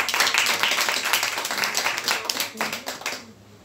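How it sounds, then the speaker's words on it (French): A church congregation claps loudly together in a dense burst of hand claps that fades toward the end. Voices mix into the clapping. "D'abord nous applaudissons le Seigneur"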